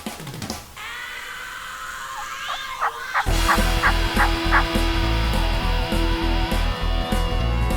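A wild turkey gobbles repeatedly during a hunt, several loud, close calls in quick succession over steady outdoor background noise.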